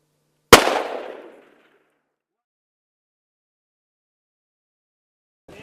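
A single sharp rifle shot fired at an elk 613 yards away during a hunt, loud and sudden, its echo rolling away over about a second before silence.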